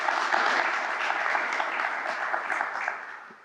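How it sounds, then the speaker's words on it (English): A crowd at a ribbon cutting for a recycling business applauds the North Central chamber team, a full, steady wash of clapping that fades out toward the end. "A round of applause to you guys as well for everything you do for North Central."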